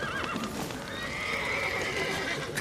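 Horses whinny and neigh in The Witcher 3 video game, with clip-clopping hooves and crackling background noise from a burning stable, loud and close with no talking.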